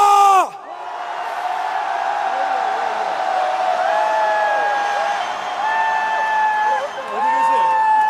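A large outdoor political rally crowd in Gwangju roars in a sustained cheer of massed voices and whoops for several seconds, with a brief dip and swell near the end.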